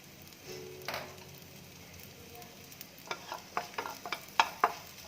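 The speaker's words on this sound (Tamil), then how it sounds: "இப்போ அதே வாணலியில் கொஞ்சமாக எண்ணெய் விட்டு இந்த பெருங்காய இது சேர்த்துட்றேன்" Asafoetida fries in a little oil in a kadai while idli podi is made, giving a soft steady sizzle with sharp pops and crackles that grow louder toward the end.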